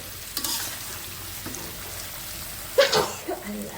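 A vegetable curry with lentil dumplings being stir-fried in a pan, a low frying hiss with a few scrapes and one sharper clatter near the end.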